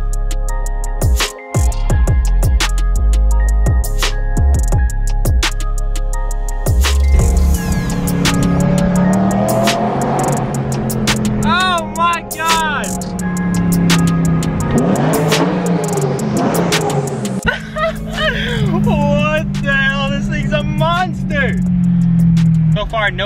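A BMW E92 M3 revs its engine inside a tunnel, the loud, rising and falling engine note echoing off the walls in repeated pulls, with a voice speaking over parts of it.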